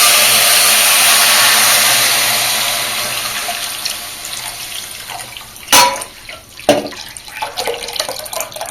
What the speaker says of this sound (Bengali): এবারে আমি ফোটানো দুধটা দিয়ে দেব।